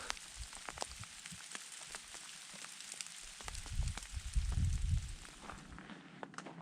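Graupel shower falling outdoors in a mountain canyon, a soft, dense pattering like light rain on surfaces, faint and continuous with a brief low rumble partway through.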